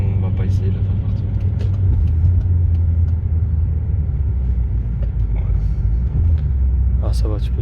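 A Maserati GranTurismo engine drones in a steady, deep rumble heard from inside the car on the road, loud and continuous, with faint voices now and then.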